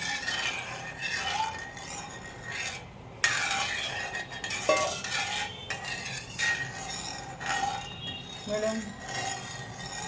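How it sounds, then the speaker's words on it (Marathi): Halwa mixture being stirred in a pan over medium gas, with steady close scraping and clinking of a spoon against metal, plus occasional brief rattles throughout. "इथं फक्त हलवत राहायचं"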